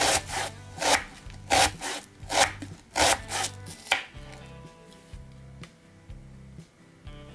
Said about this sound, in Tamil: அதுக்கப்புறமா இதை வந்து எவ்வளோ க்ளோஸாக எவ்வளோ பக்கத்தில் கட் பண்ண முடியுமோ அந்த மாதிரி கட் பண்ணிக்கோங்க.